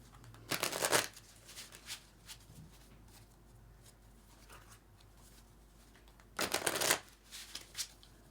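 Tarot cards being shuffled by hand, two quick riffling bursts about six seconds apart, close and crisp, with faint soft handling sounds in between.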